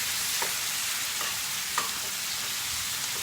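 Tomato frying in a sac pan for sac kavurma, a loud, steady hiss of sizzling oil close by with a few faint scrapes of stirring.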